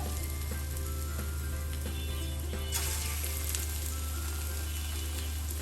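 Water lily flower pakoras frying in hot oil give a constant bubbling sizzle, even and moderately quiet, over a low steady hum, with no voices.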